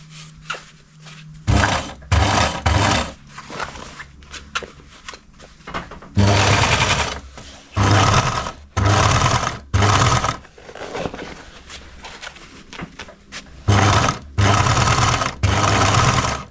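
Sewing machine stitching a heavy 4.5-metre fabric panel for a boat's stack pack, running in loud repeated bursts of a few seconds each, separated by quieter pauses.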